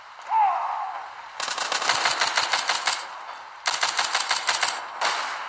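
Rapid bursts of automatic gunfire, two long volleys with brief pauses, loud and close, from the zombie shooter game The Walking Zombie 2.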